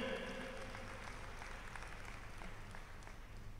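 An audience at a public church assembly claps together in a sustained round of applause, steady and fairly distant, with a low hum beneath the clapping throughout.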